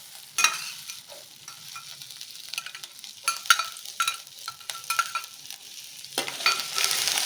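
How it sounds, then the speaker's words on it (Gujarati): Finely chopped garlic and grated ginger sizzle in hot oil as a tempering for momo chutney, a close, steady frying hiss broken by spoon stirs and scrapes that builds toward the end. "તો એનો આપણે વઘાર કરીશું"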